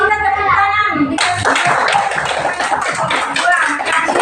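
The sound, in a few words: classroom children clapping hands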